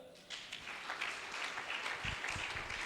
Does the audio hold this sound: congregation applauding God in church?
yes